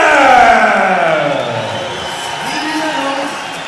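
A loud arena crowd at an MMA bout roars and cheers as the challenger is introduced, a sustained swell of voices that fades slightly and rises again over a few seconds.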